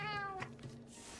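A cat companion meows once in Monster Hunter Wilds, a clear falling, drawn-out mew up close that fades into quieter game ambience.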